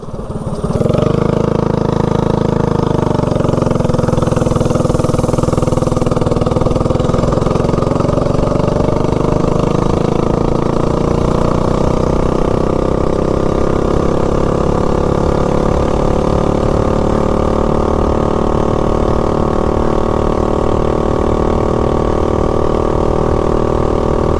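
A propane-powered mini bike engine idles steadily up close, a loud, continuous throaty drone that holds for the whole stretch with no talking over it.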